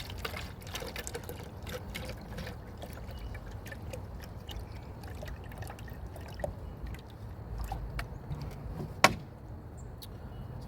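Water trickling and splashing as a jalapeño pepper plant is rinsed, a faint, steady dribble with scattered small drips and one sharper knock near the end.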